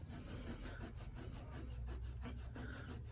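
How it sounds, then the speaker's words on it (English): A fingertip rubs coarse grit stone powder paste mixed with a little water across a surface, giving a soft rhythmic rasping scrub of repeated back-and-forth strokes, faint and close with no talking. "I'm just going to be showing you and rub this on here so you folks can see"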